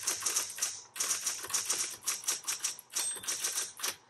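A repainted 1960s Smith Corona Coronet Electric 10 electric typewriter clatters through steady keystrokes in quick, uneven bursts with brief pauses, close and clear with no talking.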